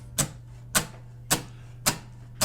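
Percussive strum on guitar: evenly spaced sharp muted slaps on the strings, five hits roughly every half second, quiet and dry, with a low hum underneath and no talking.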